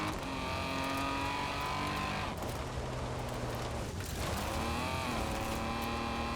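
A tuned car in Forza Horizon 4 drives with a steady, loud engine drone that holds its note, dips briefly as the revs shift, then climbs again, heard alone without speech.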